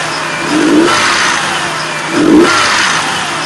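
A Nissan VG33E V6 engine is blipped twice from idle, each rev rising and falling in pitch, with a steady ticking from a camshaft hydraulic lifter running under the engine hum.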